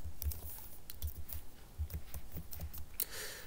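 Typing on a computer keyboard while writing a label in a CPU simulator program: a quick, uneven run of close key clicks with short pauses, ending on a brighter keystroke, no talk.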